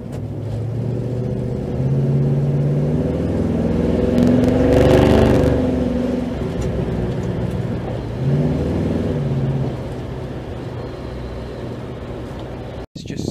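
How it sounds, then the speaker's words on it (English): A Chrysler Valiant VE car cruising with the engine running, a steady low droning rumble with road whir that swells slightly in the middle, continuous and close from inside the car. "The fourth thing I love about this car, the way it cruises."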